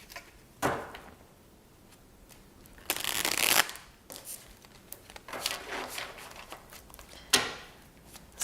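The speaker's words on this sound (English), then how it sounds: "let's also go ahead and shuffle some of these tarot cards to get some more info." Tarot cards being shuffled in several bursts, crisp riffling flutters and soft slaps, close by with quiet pauses between and no talking.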